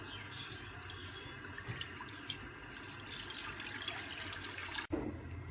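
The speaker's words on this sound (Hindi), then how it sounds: "1 लीटर पानी डाल लेते हैं।" Water poured steadily into a kadai (wok) while making homemade mozzarella pizza cheese, a continuous splashing gush that runs for several seconds and ends abruptly.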